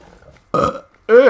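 Two loud, close burps come from a cat in the game Skyrim: a short, gurgling one, then a brief pause, then a longer, rising belch.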